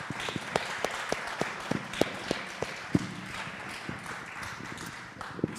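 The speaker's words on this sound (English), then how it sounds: "Can we give them another round of applause?" An audience at a game development lecture claps for the speakers, scattered, fairly faint individual claps in an uneven rhythm over a hushed hall background.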